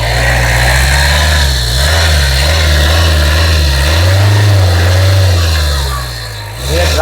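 A 2009 Chevrolet Tavera engine idles steadily up close with a loud low rumble, a slight rev midway, and a voice talking faintly over it.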